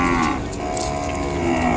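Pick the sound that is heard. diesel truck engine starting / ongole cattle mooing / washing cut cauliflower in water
ongole cattle mooing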